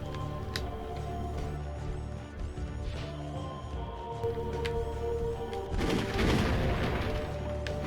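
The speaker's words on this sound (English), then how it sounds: "Even blew up some canisters." Canisters blowing up in a Robocop video game, a run of sharp bangs and crashes over a steady game-music bed, building to a louder burst of explosions near the end.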